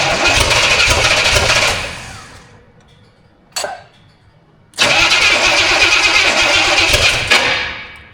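A Studebaker car engine started for the first time: loud cranking bursts that sputter and nearly catch, then a quiet pause, a brief knock, and another long, loud cranking attempt that tails off.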